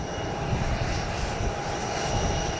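A Boeing 777 jet airliner on a one-mile final approach to Orlando International Airport gives off a steady, loud engine roar with a sustained high whine, continuous and unbroken throughout.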